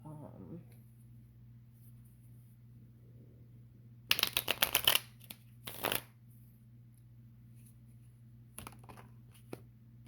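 Tarot cards are shuffled in two brisk riffling bursts, close and crisp, followed by a few lighter card taps in an otherwise quiet room with a low steady hum.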